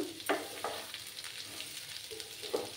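Vadi and radish fry in a pan, a quiet sizzle with a few scraping stirs at irregular moments, faint and close, with no one speaking.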